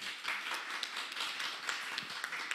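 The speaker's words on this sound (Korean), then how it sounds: "박수 한번 주십시오." A small audience at a Seoul lecture on business restarts claps briefly, a thin, fairly faint patter of hand claps with a few sharper individual taps standing out.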